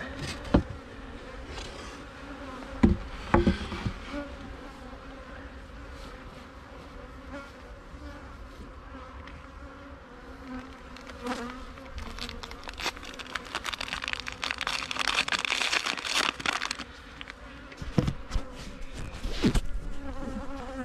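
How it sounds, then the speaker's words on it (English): A steady, droning buzz of many honeybees close at hand inside an opened hive, with occasional louder swells and faint rustling and bumping underneath. "I can see bees in there, and they're coming towards the top to see what's going on"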